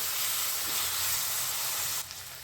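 Chopped tomatoes hit a hot pan for a bottle gourd dish and set off a loud, steady hiss of sizzling close by. The sizzle drops off sharply near the end.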